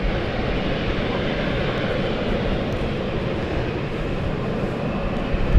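Airliner on the Edinburgh flight at London City Airport, a continuous low engine rumble and roar at moderate distance, steady throughout with no talk over it.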